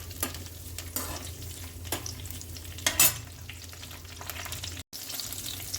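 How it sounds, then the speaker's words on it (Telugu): Green chillies frying in a pan on the way to an onion chutney, a soft continuous sizzle with occasional stirring scrapes, one brief louder burst near the middle, close and steady with no voices. "పచ్చిమిరపకాయలు వేసాను. ఇది కొంచెం ఫ్రై అయిన తర్వాత మనం ఉల్లిపాయలు వేసేసుకుంటాం."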